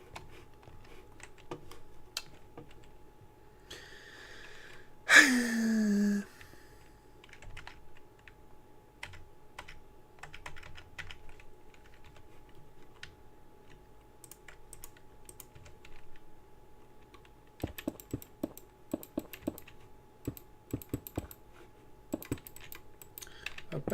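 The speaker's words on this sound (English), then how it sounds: "Press the right buttons on your keyboard and it fucking helps the whole time." Computer keyboard keys click in scattered taps and bursts, quiet and close, with a brief louder tonal blip early on and a busier run of rapid keystrokes near the end.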